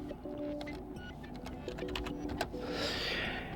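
Rapid keyboard typing on a computer, a run of soft clicks entering a search into a web browser, steady and close with a faint background hum and no talking.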